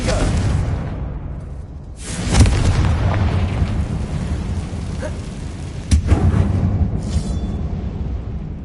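A Confringo fire spell blasts in Hogwarts Legacy inside a closed mine that looks like a tomb: a heavy boom near the two-second mark, a second sharp burst near six seconds, and rumbling game noise between them.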